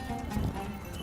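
Horses ridden by women equestrians rehearsing for a Moroccan Fantasia give a brief, dense rumble of hooves, close and continuous over a one-second stretch.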